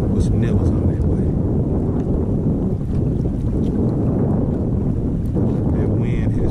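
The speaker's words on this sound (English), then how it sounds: "That wind has picked up tremendously, boy." Strong wind roars steadily over a lake from a fishing boat during late-summer crappie fishing, a loud continuous rush buffeting the microphone throughout, with a voice speaking over it.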